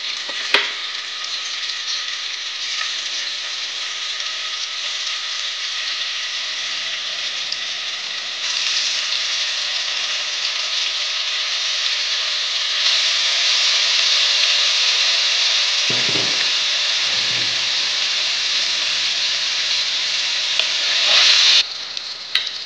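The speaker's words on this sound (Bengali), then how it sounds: "এবার তেলটা গরম হয়ে যাওয়ার পর এতে পনিরগুলো দিয়ে দেব।" Paneer pieces frying in hot oil, a loud continuous sizzle that persists for the whole stretch, with a few low bumps of stirring or pan movement partway through and no voices.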